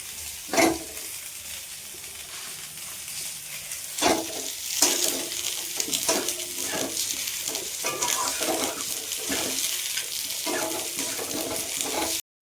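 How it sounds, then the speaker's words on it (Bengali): Pointed gourd and potato fry in a little oil in a pan, with a continuous close sizzle and occasional stirring clatters. "এবার পটল আর একটু আলুটা ভেজে নিলাম"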